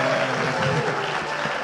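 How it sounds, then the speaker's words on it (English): Audience applause for a second-year law student, steady and dense clapping from a crowd throughout, with faint background voices mixed in. "Give him a round of applause."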